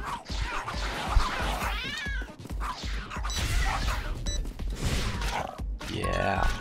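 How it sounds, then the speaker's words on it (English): A big cat in the video game Tokyo Jungle yowls and meows in drawn-out, rising cries that repeat several times over a busy game soundtrack, with thumps and bursts of game effects between the calls. "Oh, a big cat."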